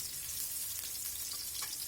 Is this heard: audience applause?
no